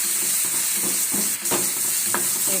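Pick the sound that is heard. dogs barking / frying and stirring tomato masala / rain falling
frying and stirring tomato masala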